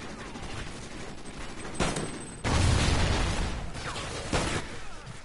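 Player gunfire in a video game: a few separate shots and bursts, one heavier volley near the middle, mid-loud against a steady game background.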